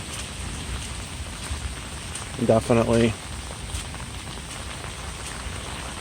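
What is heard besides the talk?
heavy rain falling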